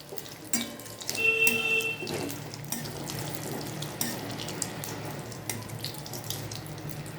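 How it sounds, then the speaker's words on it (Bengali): Dried red chillies and a bay leaf frying in oil give a soft, steady sizzle with a few light stirring knocks, fairly quiet and without talk. "এগুলো একটু ভাজা ভাজা হয়ে গেলে"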